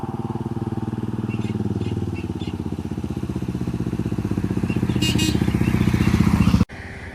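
A BMW F650 single-cylinder motorcycle engine thumps steadily nearby on a test ride in Gambia, its revs rising gradually before the sound cuts off abruptly near the end.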